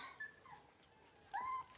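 A dog whimpers softly in a quiet room, letting out two or three thin, high, drawn-out whines separated by near silence, the last one slightly louder and rising in pitch.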